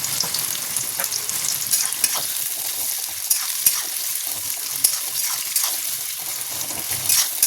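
Whole garam masala and onions fry in a pan with a dense, steady crackling sizzle, close up and continuous, with small pops and stirring throughout and no talking.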